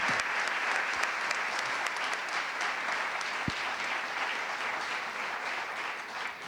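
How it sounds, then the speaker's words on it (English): Steady, sustained applause from a conference plenary audience greeting a visiting delegation, evenly dense clapping filling the room from start to finish with no talk over it. "A big round of applause also for the delegation of Poland"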